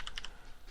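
Quick keystrokes on a computer keyboard during a Linux command-line lab, three or four close light clicks in a short burst followed by quiet room tone.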